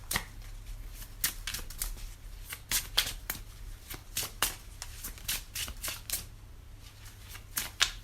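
A deck of oracle cards is shuffled by hand in close, quiet, rapid riffles and slaps, a continuous papery clatter with irregular bursts throughout.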